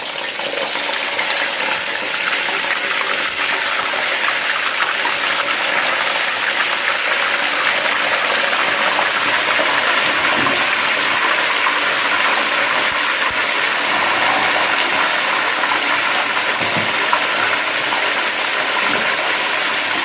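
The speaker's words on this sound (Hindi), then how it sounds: "तो अब हम ऑयल गर्म हो गया तो फ़िश डालते हैं इसमें।" Fish for a Sindhi fish masala fries in hot oil, giving a loud, steady, even sizzle that carries on unbroken for about twenty seconds with no voices.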